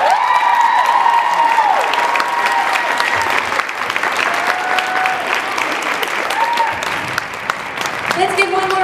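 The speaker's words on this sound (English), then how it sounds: "Let's give one more round of applause for all the dancers." An audience at the Capitol Kickline dancer showcase applauds and cheers the dancers: loud, sustained crowd clapping with scattered whoops and shouts, while a voice speaks over the noise.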